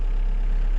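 A UHI 6-ton excavator's diesel engine idles steadily with a low, even rumble throughout the short stretch, no speech.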